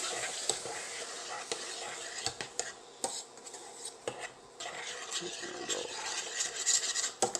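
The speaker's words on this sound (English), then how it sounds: "you want to throw that into the pot and just stir it for a bit" A spoon stirs chopped fresh tomatoes in a beef stew pot, giving close, steady scraping and rubbing with scattered light clinks against the pot.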